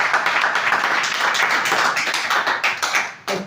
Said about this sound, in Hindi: उनके एक जोरदार ताली।